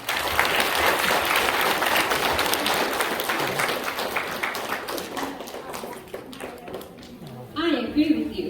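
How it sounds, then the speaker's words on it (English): Audience applause for a school class performance at a Dhamma school celebration, a loud burst of clapping that gradually thins and fades, followed by a brief voice at the end. "Please give them another round of applause."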